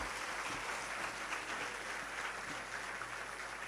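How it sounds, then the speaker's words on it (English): An audience at a youth convention applauds students, a dense steady wash of clapping from many hands held at an even level throughout. "give them a big round of applause"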